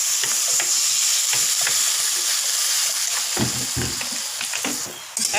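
Pointed gourd and potato curry sizzling and frying in a pan after water goes in, with steady loud hiss and scattered stirring clatter throughout, no voices.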